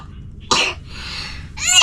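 A person with a cough and cold coughs twice: one hard, close burst, a breathy pause, then a second harsh cough.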